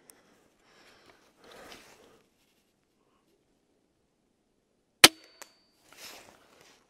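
A single sharp, snappy shot from a Cobra Adder airsoft pistol cracks out in a quiet room, followed by a faint click; soft breathy rustles come before and after.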